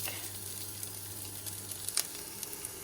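Garlic frying in a pan with a steady soft sizzle and a few sharp crackling pops near the end, close by and with no talking.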